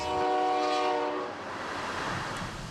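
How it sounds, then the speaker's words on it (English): A train horn blares with steady harmonic tones for over a second at night in Ferryville, Wisconsin, between river and bluffs, then fades into the low rumble of a passing train. "The only thing that you see that you can hear over here at night is the trains."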